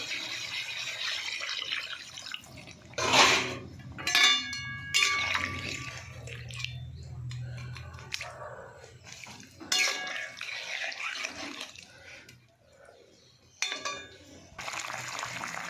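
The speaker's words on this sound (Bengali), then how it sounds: "আমি এবার জল দিয়ে দেবো।" Water poured into a pot of fish curry cooking with eggplant and potato, several short splashing pours with clinks of the pot between them, close by and without speech.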